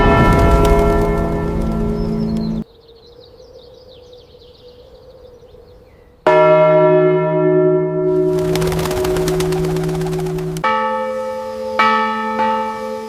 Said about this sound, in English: The silence of the whole valley was broken by the big bell of the village church.